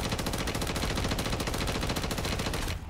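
A Sidewinder gun fires nonstop at a tier 3 fully armored zombie in Modern Warfare 3 Zombies, a loud, close, continuous rattle of rapid automatic shots lasting nearly three seconds.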